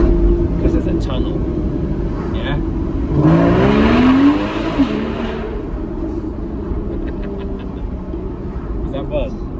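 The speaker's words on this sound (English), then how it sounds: "we put it in manual, and then we'll stick it in first gear because there's a tunnel." A Porsche 981 Cayman S in manual mode pulls hard in first gear inside a tunnel, its engine note swelling loud for a couple of seconds over steady road rumble, with people talking in the cabin.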